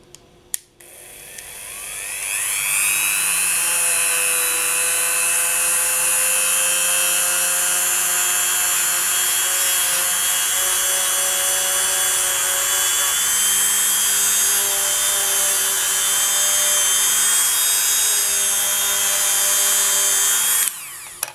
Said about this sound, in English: I'm using a Dremel 3000 just for reference